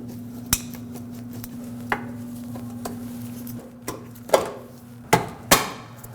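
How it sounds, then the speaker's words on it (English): Plastic push clips being pried out of the splash shield on a 2016 Scion iA, a series of sharp clicks and snaps spaced out over a low steady hum, growing more frequent near the end. "Remove some of the push clips that hold it on the back side."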